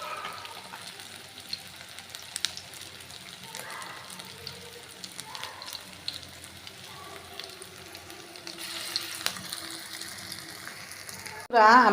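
Shing fish (stinging catfish) frying in hot oil for a spinach curry, giving a steady, fairly faint sizzle throughout with faint background voices and a louder burst right at the end.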